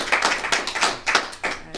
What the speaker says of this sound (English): Big round of applause for Julie.